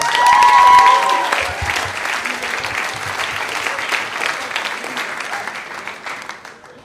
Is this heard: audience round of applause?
yes